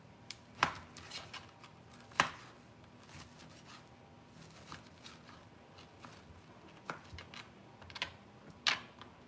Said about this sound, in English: So I'm just going to chop those into nice small pieces.